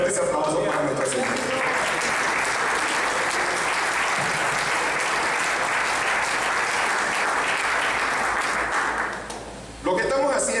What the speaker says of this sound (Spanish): Fuertes aplausos para nuestro Señor.